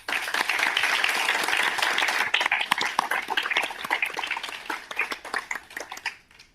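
Applause from the room fills the air at a panel event, starting as a dense, even wash of many hands. It thins into scattered individual claps before fading out.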